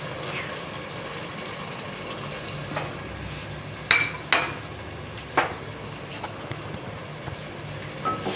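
An onion, tomato, ginger and garlic masala fries in a pot with a steady soft sizzle, broken by a few sharp stirring scrapes and clinks, with no talking.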